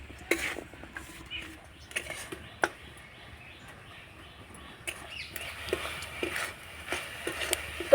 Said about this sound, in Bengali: এবার নাড়াচাড়া করে আমি পুরটা তৈরি করে নেব।